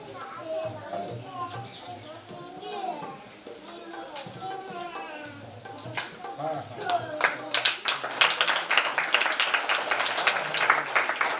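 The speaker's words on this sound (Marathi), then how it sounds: "सर्वांनी टाळ्या वाजवून" An audience applauds at a school felicitation of meritorious students for the Ahilyadevi Holkar birth anniversary. Children's chatter and talk come first, then scattered claps build into dense, lively applause over the last few seconds.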